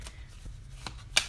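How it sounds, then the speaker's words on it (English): Sturdy oracle cards being rifle shuffled, a short soft flutter of riffling card edges followed by a sharper snap as the deck comes together, close and quiet with no talking. "I would say rifle shuffle is the only way to do it"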